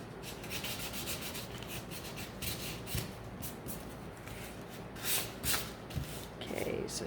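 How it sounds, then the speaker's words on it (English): Sandpaper rubbing over a painted pumpkin scarecrow to distress its finish, a steady close scratchy rasp with rhythmic strokes and a few louder passes. "Give this a sand. Give him a little distressing."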